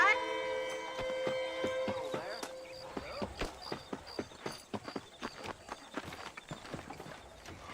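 Horse hooves clip-clop at a steady walking pace in Red Dead Redemption, light and rhythmic, under soft game music with a few scattered tones.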